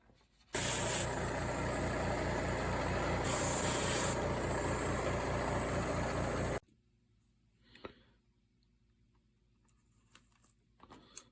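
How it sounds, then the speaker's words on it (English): A steady, loud hiss of aluminum-colored spray paint from an airbrush or can on a 1/1000 USS Excelsior model kit part runs for several seconds, with a brief louder burst, then stops, leaving quiet handling clicks. "we're going to mask this off and spray it in aluminum color"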